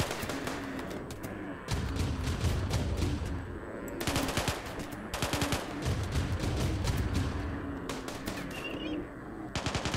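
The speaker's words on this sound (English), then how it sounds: "We're gonna run these turrets dry." Turrets fire in the Rimworld video game in rapid repeated bursts, loud crackling volleys that start and stop over a low rumble, heard without any voice.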